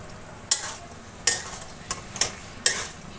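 A fish-head chhachra with carp and potatoes cooks on a low flame, with a soft background sizzle broken by about five sharp, close stirring scrapes and clinks of a utensil against the pan.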